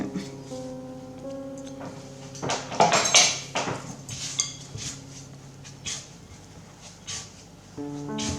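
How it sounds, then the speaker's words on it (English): A spoon stirring homemade bread dough by hand in a bowl, giving irregular scrapes and light clinks against the bowl, some sharper knocks clustered early, with quiet background tones. "Use this spoon to stir it up."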